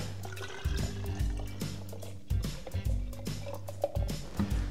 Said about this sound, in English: pour vinegar.